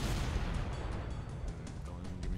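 Cannon fire in a Halo video game, a dense, loud rumble of booming blasts and bursts filling the whole clip.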